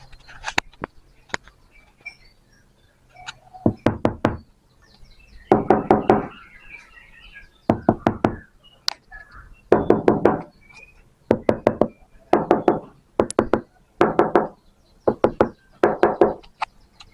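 Repeated bursts of knocking on a Honda Brio's hollow metal door panel fitted with sound-deadening, quick groups of three or four raps separated by short pauses, close and fairly loud.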